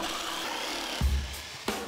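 A jigsaw or sander works a piece of wood in a short, rough rasping burst of sawing or sanding noise, with a couple of dull knocks.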